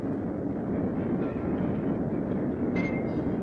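A steady, loud rumble of a 1960s train rolling along through an old tunnel, with a brief high squeal near the end.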